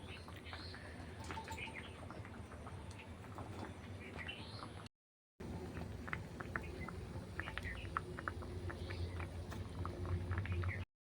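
Egg bhapa in mustard-poppy paste simmering in a covered pot on a clay stove, a steady bubbling hiss throughout with a short break, birds cooing faintly in the background.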